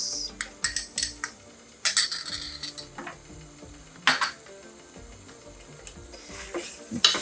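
A spoon clinks and scrapes against a pan while pine nuts are stirred into a meat stuffing, giving irregular sharp knocks and a soft scraping, with the heat off and nobody talking.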